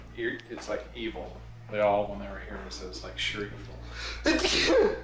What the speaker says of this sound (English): Gesundheit.